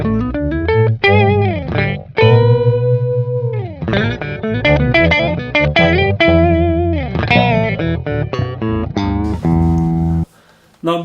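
An electric guitar played through a BOSS PS-3 digital pitch shifter on its slow setting, notes sliding and bending with a warbling, slightly distorted tone, loud and up close.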